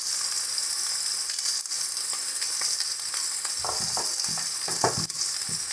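Spices sauté in a hot pan with chicken mince for ghugni, giving a constant bright sizzle. Scattered stirring clicks and scrapes grow busier toward the end, close by.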